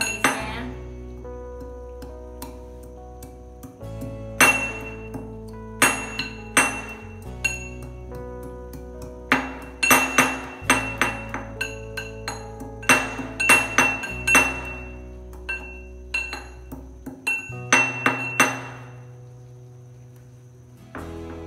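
Fresh ginger, a piece about 1 to 1.5 inches long, pounded for masala chai, giving a run of sharp metallic clinks and knocks, irregular and fairly close, alone over a low steady hum from the stove.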